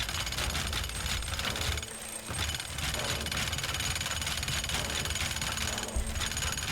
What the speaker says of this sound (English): So let's just jackhammer this.